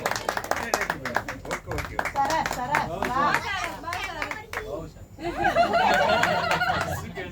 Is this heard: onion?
no